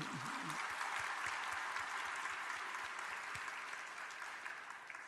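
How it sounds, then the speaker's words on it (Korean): A church congregation applauds during a Sunday worship service. The clapping is steady and sustained, a dense wash from a large crowd that holds for several seconds before easing slightly. "박수 한번"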